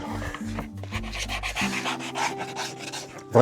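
Light hand sanding to break the edges of wooden side pieces for a DIY garden basket, a steady rasping rub close by with low tonal hum beneath and a sharper knock at the end.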